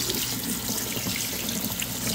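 Tap water runs hard and steady into a sink for scrubbing freshly dug new potatoes, a loud, close, unbroken rushing stream with no talk.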